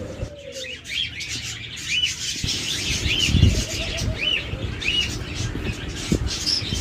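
High-mutation lovebird pairs chirp in quick, repeated bright calls over a steady background of other birds, with occasional lower coos and fluttering mixed in, and no voices.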